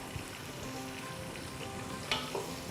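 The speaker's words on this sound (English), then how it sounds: "we were frying our onions which we added in a hot oil" Onions sizzle and crackle steadily in hot oil while cooking peas pulao, with a constant close frying hiss and a couple of sharper spits near the end; no voices.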